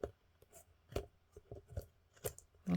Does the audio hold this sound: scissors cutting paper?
yes